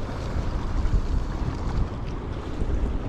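Strong wind blows across a cold winter shore used for shore jigging, a steady, loud rumbling gust noise buffeting the microphone without a break, with no voices.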